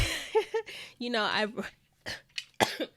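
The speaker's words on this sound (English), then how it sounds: "If you hear me cough, I'm getting over a cold" A couple of short throaty coughs from someone getting over a cold, plus throat-clearing sounds close to the microphone, interspersed with brief bits of voice.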